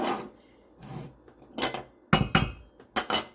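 A whisk stirs flour, salt and baking powder together in a bowl, giving a few quick, close taps and clinks against the bowl in short bursts over about three seconds.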